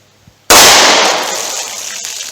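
A single very loud, sharp gunshot from a pocket pistol firing .38 Special Remington Golden Saber rounds into a ballistic box, cracking abruptly after near silence and then ringing off in a long fading echo.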